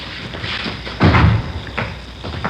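A door in an old police radio drama is handled as a sound effect, a single solid thud of it closing near the middle, close and fairly loud against a quiet room tone.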